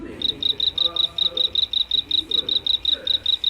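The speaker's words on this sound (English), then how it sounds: "You may think that frogs croak, but he sort of chirps." A small frog chirps in a fast, regular series of thin, high pulses, about four per second, close and steady against faint background noise.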